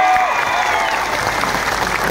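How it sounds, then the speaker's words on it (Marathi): A crowd at a protest march over a village head's murder breaks into loud, dense applause near the microphone, with voices rising over the clapping. "एका माणसासाठी एक टाळ्या, सगळ्यांसाठी टाळ्या."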